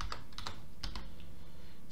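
Keys clacking on a computer keyboard while entering text for an NBA 2K22 face-creation tutorial, a quick cluster of close, crisp taps followed by a few sparser strokes, with no talking.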